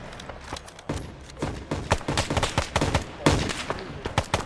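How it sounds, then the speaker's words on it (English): Gunfire cracks and booms in quick irregular bursts during an Arma 3 battle, dense overlapping shots with some heavier thuds like a cannon, near and loud, with no talk over them. "That sounds like a cannon"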